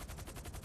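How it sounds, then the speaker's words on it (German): A quick, faint rattle of automatic fire in GTA 5 roleplay, with rapid repeated shots packed into under a second. "Oh, die schießen direkt."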